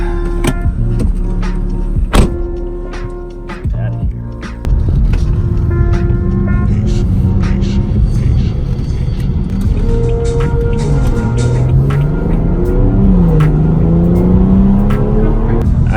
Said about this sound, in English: That intake that I put on there just transformed the sound of the car.